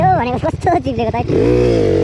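A dirt bike ridden on a slippery, muddy road on the way back from a landslide area at Deurali, Nepal. Someone talks at first, then a steady, droning engine note takes over, close and fairly loud.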